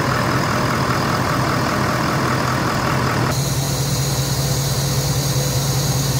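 A Ford F450 bale truck idles with a steady, even, fairly quiet engine drone that continues throughout, with no one talking over it.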